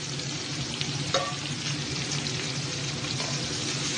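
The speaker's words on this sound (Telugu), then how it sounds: "మినపప్పు ఆవాలు వేసుకొని బాగా వేయించుకోవాలి." Onions, green chillies, urad dal and mustard seeds frying in hot oil, a steady close crackling sizzle with light stirring throughout.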